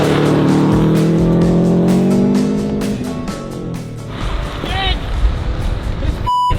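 Subaru car, left sitting in a field for two years, driving on a frozen lake: a loud, close engine revs and strains, then eases off. Voices talk over it throughout.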